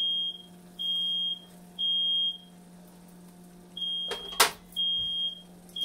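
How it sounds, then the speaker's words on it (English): A smoke alarm in a home kitchen sounds repeated high electronic beeps in a steady on-off rhythm while jalapeno bacon macaroni cooks, with a brief clatter partway through and a low hum underneath; no one speaks. "There goes that alarm."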